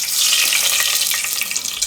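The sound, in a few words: mustard seeds sizzling in hot oil in a pressure cooker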